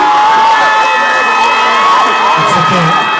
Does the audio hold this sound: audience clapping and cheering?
yes